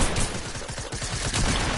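SMG spam in a multiplayer video game: dense, rapid automatic gunfire, loud and continuous, with no talk over it.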